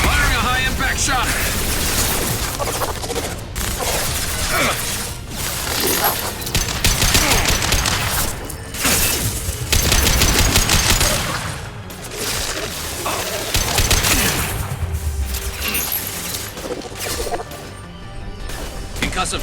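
Dense, continuous bursts of heavy gunfire and crashing impacts from high-impact shots fired in the video game Mass Effect Legendary Edition, loud and chaotic throughout with little letup.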